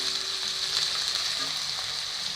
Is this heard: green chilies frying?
yes